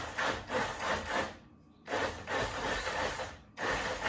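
A blender purees mango for homemade juice, roaring loudly in three close pulses separated by brief pauses, with no voices.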